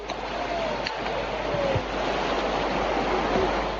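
The Fırtına River in Turkey pours in a continuous, loud, broadband roar of rushing water, with no voices.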